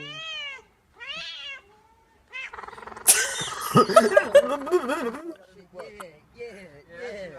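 A cat meows several times in quick, rising cries, then people laugh and talk loudly over further meows.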